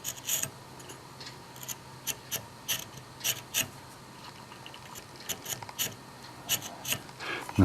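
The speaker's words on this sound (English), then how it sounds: "we can take our knife and start marking out our" A knife marking out sockets in wood, a series of short scratchy scrapes and rasps in an irregular rhythm, close and fairly quiet against a soft background hum.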